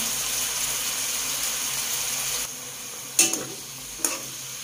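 Tofu and chicken with saba banana being stirred in a pan, with a steady low sizzle and two sharp scraping clatters of a utensil near the end; no talking.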